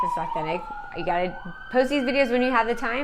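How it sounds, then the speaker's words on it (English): An emergency vehicle siren passes outside, a steady wailing tone that sweeps slowly downward and persists beneath continuous close talking throughout. "Sorry for the siren outside."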